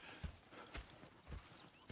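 Horse hooves clip-clop in the video game Red Dead Redemption, a few faint, separate hoofbeats spaced unevenly over a couple of seconds with no voices.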